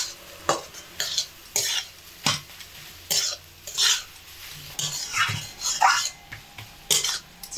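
Beetroot frying in plenty of oil in a pan over medium heat is stirred with a utensil, giving repeated scraping strokes in a steady rhythm with soft sizzling underneath, close and moderately loud, no talking.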